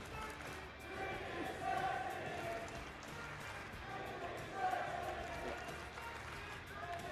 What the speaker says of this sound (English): the chant we heard a moment ago that Crow you could not hear. Let's hear that one more time